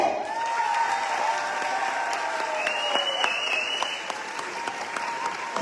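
A school audience at Charles Flowers High School claps steadily for the class of 2024, an even wash of applause lasting several seconds, with a faint tone and some voices in the room underneath.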